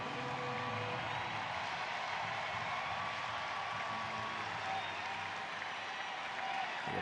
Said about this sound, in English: The applause getting louder every time Shohei comes to the plate these days.